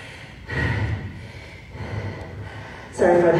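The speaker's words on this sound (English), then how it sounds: "Sorry for the heavy breathing." Heavy, gasping breaths from someone catching their wind during a BodyAttack cardio workout, coming in bursts of hard exhales with a louder rush near the end, close to the microphone.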